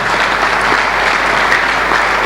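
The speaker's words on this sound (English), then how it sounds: "Give him a round of applause." Audience applause for a Deputy Governor at a government transparency briefing, a steady dense burst of clapping throughout, loud and close with no talk over it.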